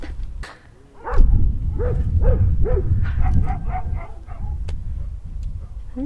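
Several dogs bark and yip outdoors at a shop site, a rapid run of loud, overlapping barks at moderate distance over low rumbling background noise.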